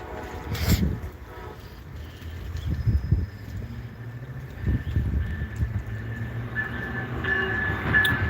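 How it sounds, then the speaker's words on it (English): A train rumbles past at a distance, with repeated low clattering bursts of wheels on track and a faint steady tone above, heard alone without voices. "I hear the train."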